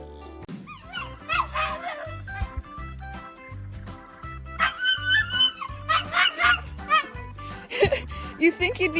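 A Great Dane barks and whimpers indoors in a series of loud, close yips and whines with short gaps between them, mixed with people talking and giggling.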